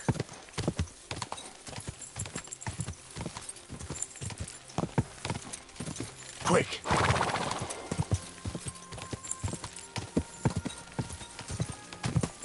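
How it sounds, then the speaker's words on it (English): A horse in the video game Kingdom Come: Deliverance trots with steady, evenly spaced hoof clops on hard ground, breaks into a loud whinny midway, then carries on clopping, with a brief shouted word near the start. "This horse must have cost a pretty groschen."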